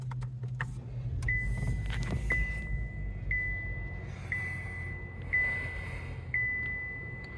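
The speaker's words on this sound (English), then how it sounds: "To start the vehicle up, all you have to do is just simply put your foot on the brake and hit the button to go." A 2025 Chevrolet Malibu RS starts up with its push button, settling into a low, steady idle hum while a clear chime tone repeats about once a second.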